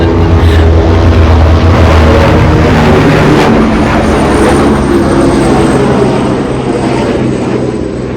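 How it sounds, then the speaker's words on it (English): A helicopter passing overhead, its loud, steady rotor and engine roar filling the whole stretch and easing slightly toward the end, with no talk over it. "So that chopper's coming."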